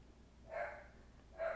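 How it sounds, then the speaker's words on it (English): A pet dog named Finn barks twice indoors, two short mid-pitched bursts separated by a pause, the second a little louder, heard at moderate distance over a quiet background. "I can't believe my dog's barking right now."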